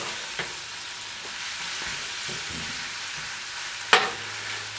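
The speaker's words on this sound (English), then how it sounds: "Stir it up really nice" Bacon, mushroom and spinach omelet filling sizzling in a pan while being stirred, an even crackle with a few soft scraping strokes and a sharp clink near the end.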